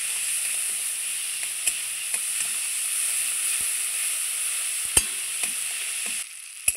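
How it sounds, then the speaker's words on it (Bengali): Tomato paste fries in hot oil in a pan, giving a continuous bright sizzle and hiss with occasional sharp pops and a few soft clicks of a utensil, steady throughout. "টমেটো একটু ভেজে নিব, তাতে কাঁচা গন্ধটা চলে যাবে।"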